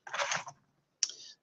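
Two short bursts of keystrokes on a computer keyboard, a quick flurry followed by a pause and a single sharper tap, faint and close, with no talking.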